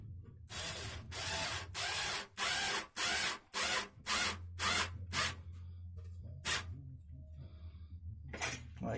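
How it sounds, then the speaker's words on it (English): A power driver runs screws into a red HTPC computer case in a series of loud, close whirring bursts that grow shorter and quicker, with pauses, a low hum underneath and a final burst near the end. "Put in the screws, and they are not in straight."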